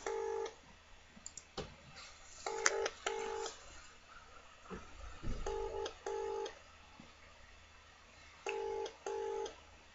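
Telephone keypad dialing tones sound in short paired bursts, repeated several times across the stretch with brief clicks between them, fairly clear against a quiet background with no talk.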